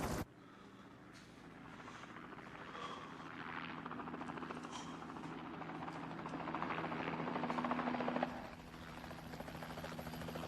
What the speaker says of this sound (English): Your radio is patched into the helicopter's loudspeaker.